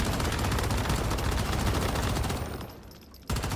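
Sustained, dense automatic gunfire in the survival shooter Once Human, loud and continuous for nearly three seconds before tapering off, then a final burst at the end.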